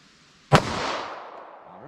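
A 9mm Federal Punch round is fired into ballistic gel backed by MDF board, giving one sharp, loud gunshot crack followed by a long fading echo.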